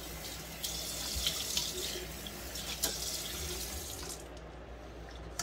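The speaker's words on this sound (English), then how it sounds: "I'll wash my face, wet my face." A bathroom sink tap runs steadily as water splashes while a man wets his face before shaving, a close, even hiss of flowing water with no talking.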